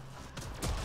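Gunfire bursts from Mass Effect Andromeda multiplayer, a couple of quick, moderately loud shots with a heavier impact near the end, set against a steady game background.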